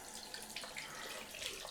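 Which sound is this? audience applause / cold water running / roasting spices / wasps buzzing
cold water running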